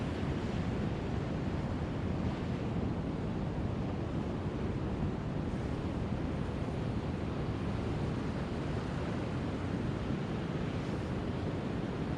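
Ocean waves break on coastal rocks in a continuous, loud roar of surf with wind noise, with no voices.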